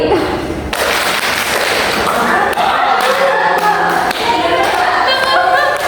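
A classroom group claps a set pattern together during a university Indonesian-language presentation: sharp sharp bursts of two claps repeated three times, then three claps, with a leader's voice and chatter around them.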